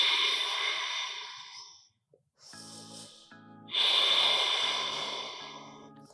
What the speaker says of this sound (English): Try to take the deep breathing and your breath should be deep and intense.